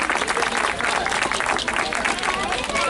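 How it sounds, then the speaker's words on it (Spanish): A crowd at an outdoor festival event applauds the musicians with dense, sustained clapping that fills the whole moment, with voices mixed in. "Yo creo que un aplauso para nuestros músicos"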